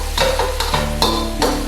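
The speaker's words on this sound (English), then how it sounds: "after stir frying for a couple of minutes, we're just going to add everything back in" Quick scraping strokes of a spatula stir-frying rice in a hot pan, four or five rhythmic scrapes with a light sizzle underneath, close up.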